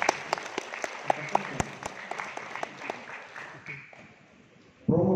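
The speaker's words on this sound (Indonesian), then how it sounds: "Tepuk tangan dulu." Polite applause from a small audience opening a doctoral promotion examination in an academic hall. It is made of scattered distinct claps that fade away, and a voice begins speaking at the very end.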